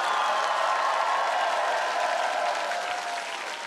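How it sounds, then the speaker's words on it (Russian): Studio audience applauding on a televised comedy game show, a dense sustained wall of clapping with faint crowd cheering, loud and steady before easing slightly toward the end. "И эти аплодисменты."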